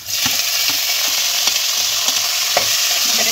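Chopped banana blossom sizzles loudly in a hot pan with black cumin, with a dense, constant frying hiss and several light clicks of a spatula stirring, close up and without any voices.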